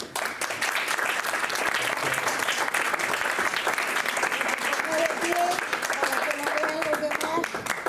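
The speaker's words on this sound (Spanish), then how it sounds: "pediría por favor un fuerte aplauso para él" Sustained audience applause for an event organiser fills the room steadily from start to finish, dense and even, with faint voices and a few short tonal sounds surfacing in the later seconds.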